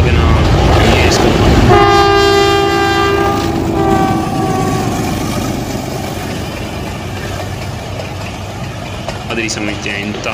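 Train crossing a curved flyover bridge near a level crossing between Rawalpindi and Bakeri, a loud horn blast over heavy rumbling wheels, then a steady rolling clatter that fades slightly, with a second horn near the end.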